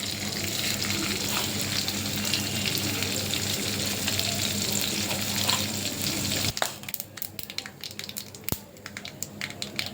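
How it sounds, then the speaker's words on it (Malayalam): Mustard seeds sizzle and fry steadily in hot oil for a cheema puli (tamarind) pickle, a dense continuous hiss that thins after several seconds into scattered sharp pops and crackles. "ഇതിലേക്ക് നമുക്ക് കടുക് ഇട്ട് കൊടുക്കാം."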